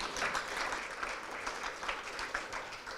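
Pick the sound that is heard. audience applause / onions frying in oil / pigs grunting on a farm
audience applause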